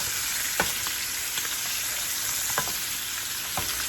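A ribeye steak sears in a pan while being basted, giving a loud, continuous close sizzle with a few spoon clicks and spattering pops, no talking.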